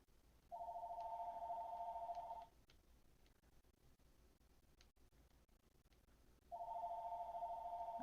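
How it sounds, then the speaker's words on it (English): A telephone ringing nearby during a World of Tanks session: two steady electronic ring bursts, each about two seconds long, separated by a few seconds of quiet game ambience. "sorry about the phone ringing. It's a telemarketer."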